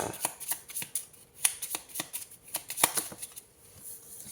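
Small Uno cards with number faces being shuffled by hand, a quick series of crisp riffling flutters and soft snaps repeating close by, with no talking.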